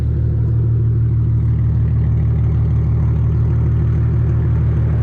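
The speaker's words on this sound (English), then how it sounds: "the exhaust just sounds so much more healthier" A Nissan 370Z with a Tomei exhaust idles steadily with a deep, throaty exhaust rumble, constant and close, with no talking.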